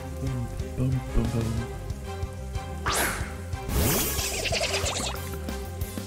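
Rain falls in the Pokemon Shining Pearl video game, a steady hiss of drops over looping game music, with a couple of sharp whooshing crashes partway through.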